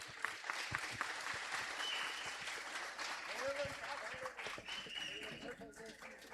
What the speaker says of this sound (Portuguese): Palmas para os nossos atores.